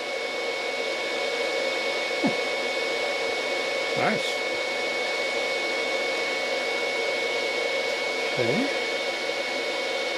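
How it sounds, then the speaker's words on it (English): The cooling fan of an HTRC P30 30-amp smart battery charger makes a steady, moderate whir that runs the whole time. A person speaks briefly over it. "the fan's not obnoxiously loud"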